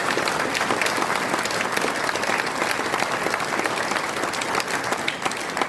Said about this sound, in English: a big round of applause for Stonebridge and Sunday